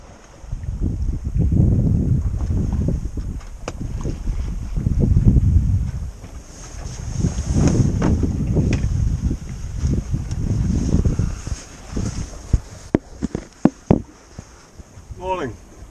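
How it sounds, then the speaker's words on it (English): Gusty wind buffets a sailing boat at sea at the mouth of the Bay of Biscay, rising and falling in loud surges against the microphone, with a few sharp knocks near the end. "I think the wind is a little bit fickle."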